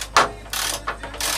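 A wrench or ratchet works a seized, rusted bolt in a Citroën 2CV engine bay, giving three short bursts of clicking and grinding, close and fairly loud.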